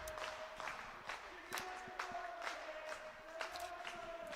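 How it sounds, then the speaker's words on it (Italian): Roller hockey fans in the Trissino arena applauding and cheering before a women's Serie A match, distant, reverberant scattered claps and crowd murmur at a fairly low level, with sharper bursts of clapping every half second or so. "Sottofondo si sentono sempre i tifosi"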